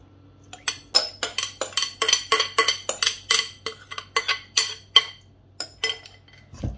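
Bulgur tabbouleh is scraped and spooned into a bowl, a rapid series of close utensil clinks and scrapes in an uneven rhythm, with no talking.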